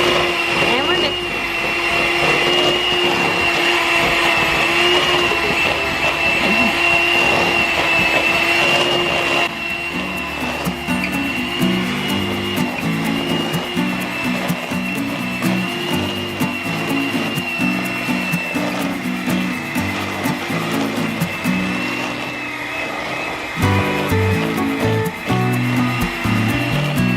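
An electric mixer creams butter with two sugars for cookie dough, a steady loud whirring motor hum that runs throughout while people talk over it.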